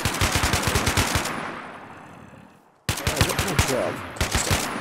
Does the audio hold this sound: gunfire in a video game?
yes